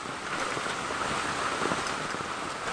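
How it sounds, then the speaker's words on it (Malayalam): Heavy monsoon rain falls steadily during flooding, with the Meenachil river overflowing into the yard and grounds; the downpour forms a dense, constant hiss with no voices. "മഴ ശക്തമായിക്കൊണ്ടിരിക്കുക"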